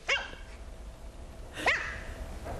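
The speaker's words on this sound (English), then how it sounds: "Little papillon puppy discovering himself in the mirror for the very first time." A small papillon puppy gives two high, sharp barks about a second and a half apart, close and fairly faint, with quiet in between.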